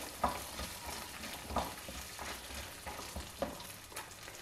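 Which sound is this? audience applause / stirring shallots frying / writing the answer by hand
stirring shallots frying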